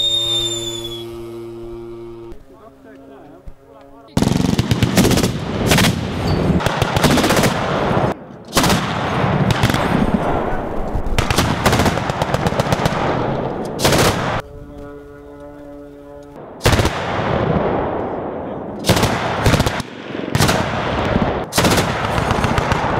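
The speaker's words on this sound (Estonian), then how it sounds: "Meil laseb kahuripatarei, ajateenitust koosnev kahuripatarei" A military anti-aircraft cannon battery manned by conscripts fires in loud, rapid bursts of automatic shots, several long volleys separated by brief pauses, with echoing booms rolling across open ground.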